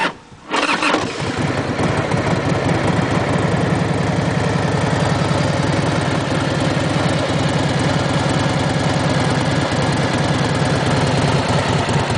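A 2009 Indian Chief Vintage motorcycle engine cranks and catches, then settles into a steady, loud, rumbling idle that runs on without pause.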